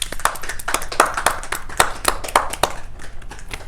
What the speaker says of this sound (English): Can we get a tap of applause for that?